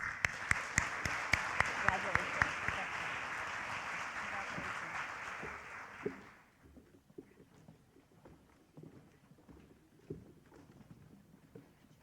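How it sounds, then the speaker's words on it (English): Applause from the audience at a senior awards ceremony, with crowd clapping and a few sharp nearby claps for about six seconds before it stops abruptly, leaving quiet room noise and faint movement. "One more round of applause."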